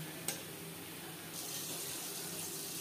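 Spice-rinsing water pours into a pan of Bhola fish curry as a steady, soft hissing splash that grows slightly fuller partway through, quiet and continuous with no voices.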